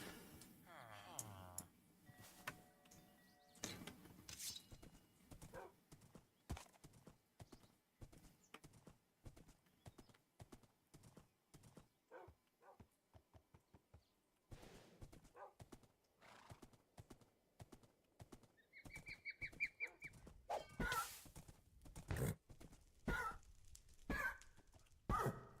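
Horse hooves clip-clop in quick, irregular bursts in a survival video game, broken by a couple of loud whinnies near the end, with speech at times under the hoofbeats.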